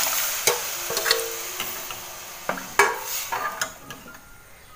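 A spoon scrapes and clinks in a hot pan as boiled peas and ground onion-coconut masala are stirred together, with a steady soft sizzle underneath and several sharp metal taps along the way.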